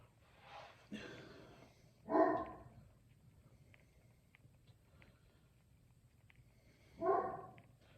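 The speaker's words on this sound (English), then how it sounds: "my dog's barking because I was trying to show off that it was made out of metal" A dog barks twice indoors, each a short, moderately loud bark several seconds apart, over a quiet background with faint low hum.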